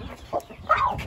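Soft chicken peeps and clucks, a short low call followed by a brighter chirping one, close by and fairly quiet.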